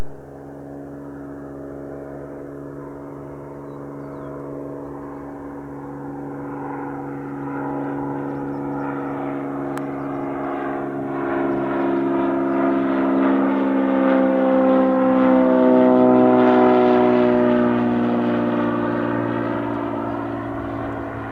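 A general aviation aircraft comes in to land on runway 8 right at an airport, its engine drone building steadily and rising in pitch as it passes close by, with no voices.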